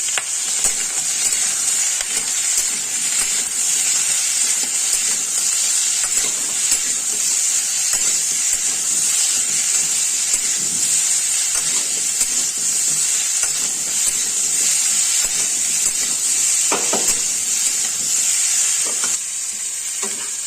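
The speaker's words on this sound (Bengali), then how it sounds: "এদিকে আমার চাল ভাজা হয়ে গেছে, কড়াইটা এবার নামিয়ে নেব।" Rice frying in a kadai with a little turmeric and salt for Makar Sankranti khichdi, giving a loud, steady, close sizzle with stirring scrapes that runs unbroken for about twenty seconds.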